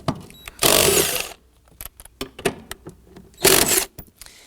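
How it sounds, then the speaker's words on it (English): Seat bolts on a 2015-2024 Nissan Murano 3.5L V6 are loosened and removed with a 14mm socket, giving two loud bursts of rapid power-tool whirring separated by close clicks and metallic clanks. "we're going to use our socket to go ahead, loosen, and remove the bolts on either side"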